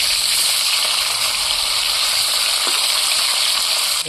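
Fish frying lightly in hot oil for a Bengali fish curry, giving a steady, dense sizzle and hiss that holds evenly close by throughout, with no talking.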